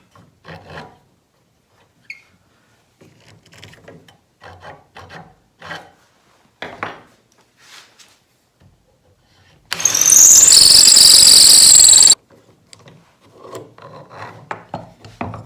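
A drill bores a hole in wood for a worktable sawmill with a loud, high whine lasting about two seconds, set between quiet scattered handling knocks and scrapes.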